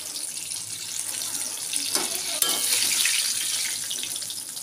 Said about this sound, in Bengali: বেগুন ভাজা লাল লাল করে ভাজা হয়ে গেল।